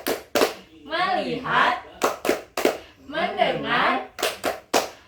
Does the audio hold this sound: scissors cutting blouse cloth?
no